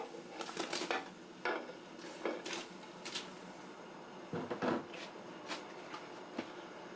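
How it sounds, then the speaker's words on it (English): Raw shrimp tipped into a cooking pot on a high burner, making a series of close, clattering metallic knocks and scrapes in irregular bursts with quieter gaps between. "let's just go ahead and put these into the pot"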